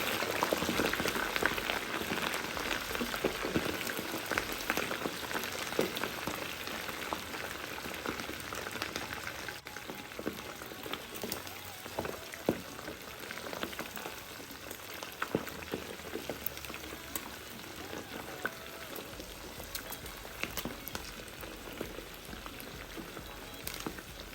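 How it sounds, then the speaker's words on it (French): Dense, steady sizzling and crackling of snails frying in hot oil, continuous and fairly close, with no voices. "On vient y faire frire les escargots."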